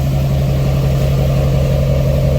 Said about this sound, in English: it's a lot quieter now with the full exhaust